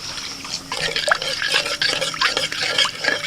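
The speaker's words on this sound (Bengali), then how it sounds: "এবার আমি একটু জল দিয়ে দিচ্ছি" Water pours and splashes into a pan of fried spice paste with sizzling crackles, close up and steady throughout.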